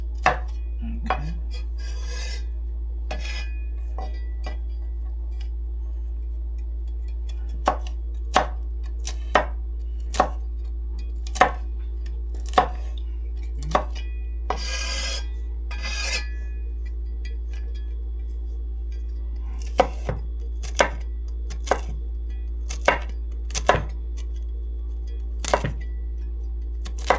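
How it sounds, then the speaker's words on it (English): A very sharp knife chopping walnuts on a board, sharp crisp cuts coming in irregular clusters and single strokes, some quick runs of several chops, close and clear over a steady low hum with no talking. "I'm gonna add the walnuts to it. Be very careful when you're cutting. This knife is very sharp."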